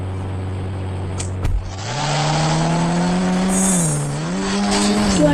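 A motorbike engine in the Indian Bike video game drones steadily, then climbs and dips in pitch as the bike accelerates and eases off. It plays alone and close, with a brief click near the start.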